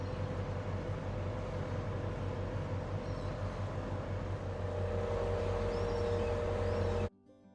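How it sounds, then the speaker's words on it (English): A sailboat's engine motors out through a harbour entrance on an incoming tide, a steady close drone with no talk that cuts off abruptly near the end. "We've got an incoming tide at the moment, so we will motor out through the entrance."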